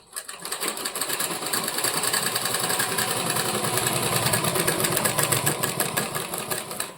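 A sewing machine stitches fabric for a handmade bag, its rapid, even needle chatter running loud and close for several seconds after a brief quiet start, with no talking.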